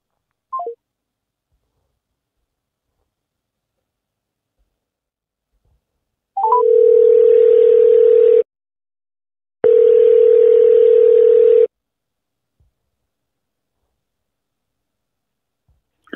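A telephone sounds two long steady dial tone bursts with a short gap between them, preceded by a brief dialing chirp, heard alone and close between stretches of silence during a callback.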